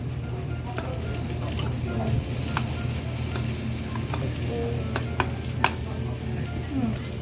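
Okonomiyaki batter full of shredded cabbage being mixed, a continuous wet stirring and scraping with occasional sharp clicks of a utensil, while voices talk faintly in the background.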